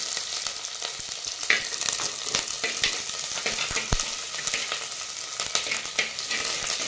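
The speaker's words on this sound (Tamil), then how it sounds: "எல்லாத்தையும் சேர்த்து நல்லா வணக்கலாம்" Curry leaves, garlic and spices sauté in a clay pot as field bean gravy is made, a loud, continuous close sizzle broken by frequent stirring scrapes and taps, with no voices.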